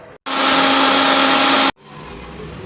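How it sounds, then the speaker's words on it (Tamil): A mixer grinder blending pomegranate seeds with no liquid whirs loudly in one steady burst of about a second and a half, starting and stopping abruptly, with quiet background before and after. "மிக்ஸி ஜாரில் போட்டுட்டு மூடி வச்சுட்டு எதுவுமே ஊற்றாமல் ஃபஸ்ட்டு அரைச்சிக்கோங்க"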